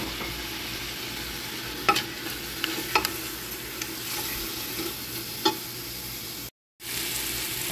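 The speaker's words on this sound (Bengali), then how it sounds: "এখন ভালো করে মশলাটা কষিয়ে নেব।" Kabsa spice mix fries with mutton in a pan, a steady sizzle under scattered scrapes and clacks of stirring, with a brief silent gap near the end.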